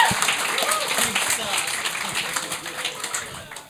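Studio audience at a Quebec comedy podcast taping applauding on cue, a fairly loud, even patter of clapping that tapers off, with talk and laughter mixed in.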